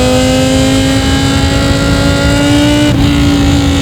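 A loud, high-revving V10 engine swapped into a BMW E46 M3 holds a steady, piercing wail near the listener for several seconds, with a brief dip near the end before climbing again.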